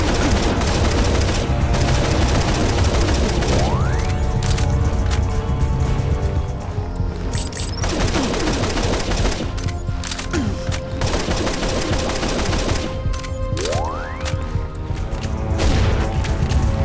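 Gunfire from the first-person shooter mobile game N.O.V.A. Near Orbit Vanguard Alliance: loud sustained automatic bursts with sharp cracks, and booms and crashes layered through the barrage.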